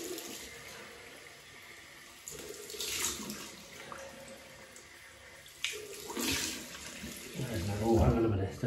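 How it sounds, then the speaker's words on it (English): Cold water running from a bathroom tap to rinse after a wet shave, a hissing splash that swells and fades as hands move under the stream, with someone talking quietly over it. "cold water rinse"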